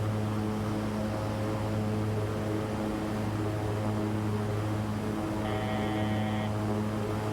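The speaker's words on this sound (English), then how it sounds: "engine sounds are crazy." A flight simulator aircraft engine gives a loud, steady, droning hum with layered tones. A short high beeping tone joins briefly near the end.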